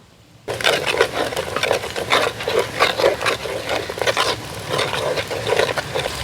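Onions sizzle and crackle steadily in a pan with garlic, curry leaves and green chillies for a Telugu-style country chicken dish, a close, continuous frying hiss with small stirring scrapes and no talk.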